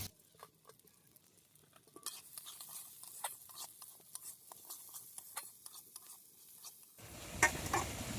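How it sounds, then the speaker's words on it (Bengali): Moong dal fries in leftover oil in a kadai, with quiet, scattered scraping and ticking stirs and a faint sizzle, followed by a louder burst of noise at the end. "কড়াইতে ডাল দিয়ে দিলাম ভেজে নেব ভালো করে"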